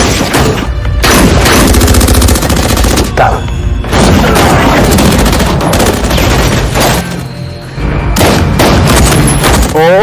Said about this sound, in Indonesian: mendengar semua tembakan yang ada di luar